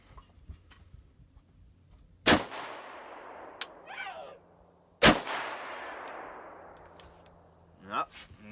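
Two loud, sharp gunshots spaced about three seconds apart ring out from a Radical Firearms AR upper, each followed by a long fading echo, with faint voices in the background.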